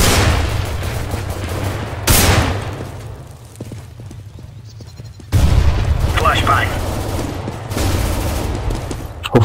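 A grenade explodes in CS:GO with a heavy, loud blast amid ongoing shots, and a second big burst follows a few seconds later while voices talk underneath.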